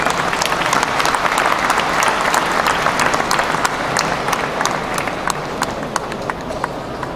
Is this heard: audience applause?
yes